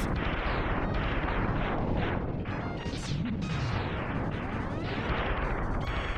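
A ship is destroyed in Mega Man X amid a loud, continuous barrage of crashing explosions with sharp bursts and sweeping blasts piling up over several seconds, and no speech.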